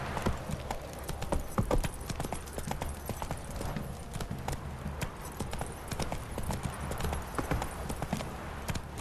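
Roach the horse gallops in The Witcher 3, a rapid, even clip-clop of hooves pounding close and loud over steady low background rumble, with no talking.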